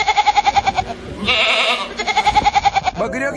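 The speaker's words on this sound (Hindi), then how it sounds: "बकरियों की आवाज आ रही है।" Goats bleat in a rapid, wavering series of close, loud cries, broken by a brief burst of other noise midway before the bleating resumes and a voice-like sweep closes the moment.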